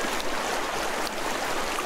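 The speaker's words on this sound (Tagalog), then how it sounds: "May ganito pa palang malinis na ilog," A clear, shallow river at a riverside camping ranch in Tanay, Rizal flows with a steady, broad rushing wash, close and continuous and heard on its own.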